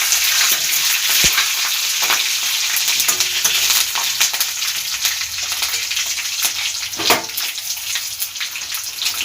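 Bay leaves, dried red chillies, mustard seeds, panch phoron and green chillies tempering in hot oil, a dense, continuous sizzle and crackle with a few louder pops, close and steady throughout.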